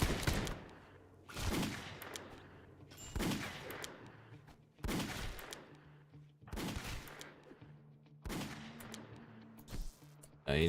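Gunfire in the colony-building video game Rimworld during a raid: six evenly spaced loud bursts of shots, each ringing out briefly before the next, with no talk.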